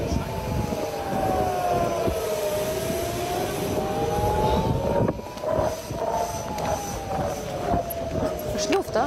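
Air raid alarm sirens wail at an airport during a rocket attack, a continuous rising and falling tone heard from a distance over a steady roar of background noise, with people talking over it.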